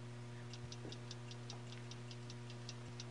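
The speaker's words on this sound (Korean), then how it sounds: "대합실 벽에 붙은 시계가 도착 시간을 1시간 반이나 넘긴 채 꾸준히 째깍거리고 있었지만" A wall clock in a railway station waiting room ticks steadily and faintly, a regular run of soft clicks over a quiet, low hum.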